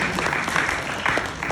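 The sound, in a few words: audience clapping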